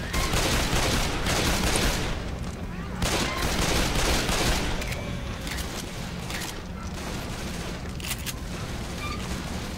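Sustained, dense gunfire from a Left 4 Dead zombie shooter session, with rapid overlapping shots and mechanical clatter running throughout at steady loudness; a voice occasionally talks over the shooting.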